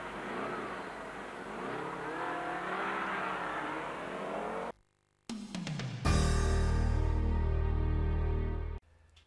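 A motorcycle engine rumbles and shifts pitch through a gear change, then cuts out briefly before a loud, steady high-revving drone takes over, with no one speaking.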